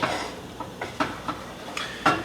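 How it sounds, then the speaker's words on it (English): A wooden spoon stirs garlic and butter in a pan for garlic mashed potatoes, giving a series of separate scraping strokes and light clinks against the pan over a faint sizzle. "we're just gonna blend this in with that butter and that garlic, and it's gonna froth up"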